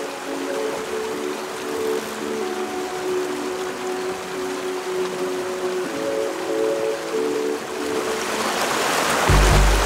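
Creek water rushing steadily through a canyon in the Gila of New Mexico, a loud, continuous broadband wash with no talk, swelling slightly louder at the very end.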